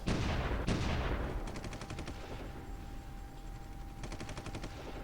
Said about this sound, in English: So we got some tanks getting pummeled by artillery.